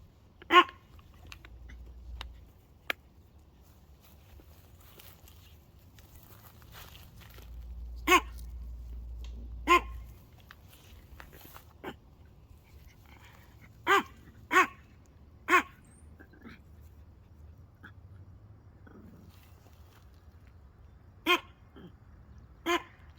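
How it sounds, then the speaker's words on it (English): A Chihuahua barks in sharp, isolated yips scattered across the stretch, single or paired barks separated by quiet gaps, fairly close and crisp over a faint low background hum. "well this is such a good video of Boo Bear just barking the whole time."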